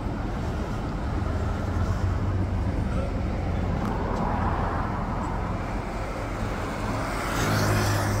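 Steady roar of cars passing close by on an expressway, heard from inside a moving vehicle, a continuous broadband traffic rush with low engine rumble throughout.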